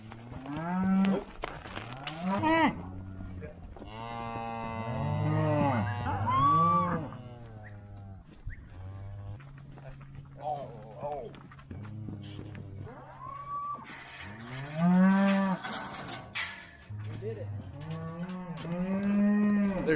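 Calves moo again and again inside a barn, loud close bellows overlapping from several animals, some long and drawn out, others short and rising, with a low steady hum beneath.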